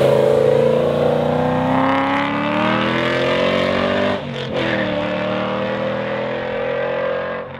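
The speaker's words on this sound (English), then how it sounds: "In the exhaust, I also have cutouts that are basically a header dump." LS-swapped Nissan 350z exhaust roaring through open header dump cutouts, a loud, close, harmonic engine drone that holds steady, dips briefly midway, then climbs again as revs rise.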